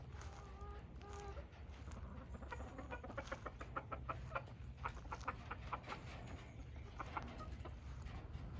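Backyard hens cluck softly and intermittently, a few short bursts of low calls close by in a quiet outdoor setting, waiting for treats of apple and bell pepper.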